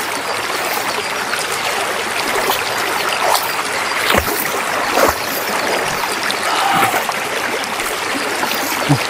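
Steady broadband rush of flowing river water, continuous and fairly close, with faint trickling and occasional splashes, no voices.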